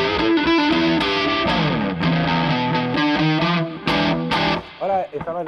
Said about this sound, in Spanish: vamos a poner un poco de distorsión.